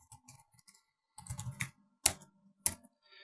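Code being typed on a computer keyboard, close clusters of quick key clicks with a couple of sharper single taps, no talking.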